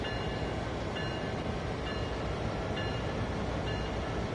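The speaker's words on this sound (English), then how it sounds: "we're going to couple up to these BNSF boxcars" A simulated freight locomotive in a train driving game runs along while coupling to BNSF boxcars, giving a continuous low rumbling drone with faint regular clicks and no voices.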